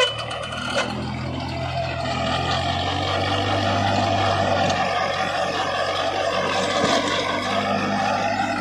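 A tractor drives a Khalsa sugarcane inter-row weeder rotavator through the field, giving a steady low diesel drone with a churning mechanical rumble. The sound builds over the first second, then holds loud and close without speech.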